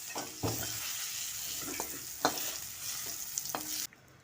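Fried pumpkin and beans lifted out of hot oil in a pan, the sizzle running under sharp scrapes and clinks of a spatula, ending abruptly.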